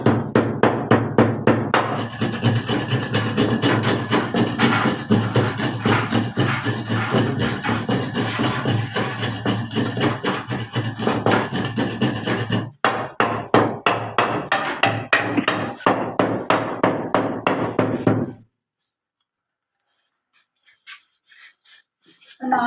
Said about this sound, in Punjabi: ਫਟਾਫਟ ਰਗੜ ਲਈਏ ਕਾਲੀਆਂ ਮਿਰਚਾਂ ਤੇ ਸੁੱਕਾ ਧਨੀਆ।